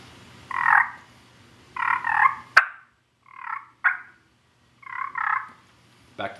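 Turkey yelps worked on a Tom Teaser call, several short raspy clucking bursts spaced by gaps, close and fairly quiet, with a couple of sharp clicks between them.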